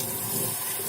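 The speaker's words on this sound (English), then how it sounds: "And you just rinse the sink." Tap water runs steadily into a sink during rinsing of rain-dyed fabric, a close, continuous splashing wash with no talk.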